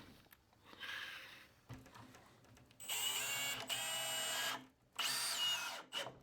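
A Milwaukee power drill whirs in short bursts: a faint first run, then two loud sustained runs with a brief stop between them, with no voices.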